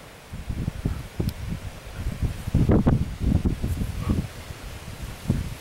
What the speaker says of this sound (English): Is the wind blowing?